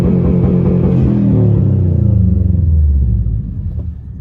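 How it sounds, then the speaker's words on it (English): A Subaru STI engine revs up and holds steady at launch RPM with the clutch in and first gear selected, a loud low rumble sustained for a few seconds before easing off at the end. "put the clutch in, we're going to put it in first gear, and then all we're going to do is mash down the gas pedal"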